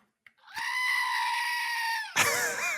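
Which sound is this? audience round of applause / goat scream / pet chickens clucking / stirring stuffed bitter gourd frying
goat scream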